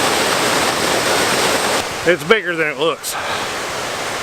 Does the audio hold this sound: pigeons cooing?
no